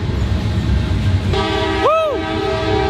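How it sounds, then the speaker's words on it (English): Big freight trains roll past beside an outdoor skatepark, their horn blaring loud and close in a long sustained chord that swells and drops in pitch as it passes, over a steady rumble of rail noise. "There's huge trains out here, and they don't stop."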